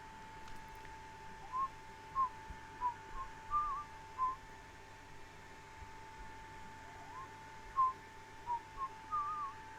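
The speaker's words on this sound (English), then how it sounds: "At exactly 3:03, we heard the whistling." Soft, eerie whistled notes repeat at irregular intervals over a quiet hum, thin and distant-sounding with no voices.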